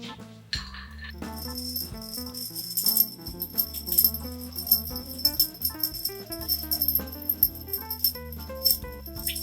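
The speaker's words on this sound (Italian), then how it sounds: "usando un bar spoon andiamo a girare tutto." A bar spoon stirring a Negroni over ice in a mixing glass, giving a steady run of light rattles and clinks that continues throughout, with a thin high ringing tone underneath.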